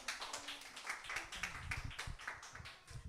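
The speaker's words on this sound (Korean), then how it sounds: "박수." A congregation applauding during a Sunday church service, steady and fairly quiet clapping from many hands in a room, continuing throughout without a break.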